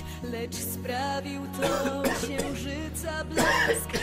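Several short coughs break through a steady musical background, fairly quiet and close, with no talking.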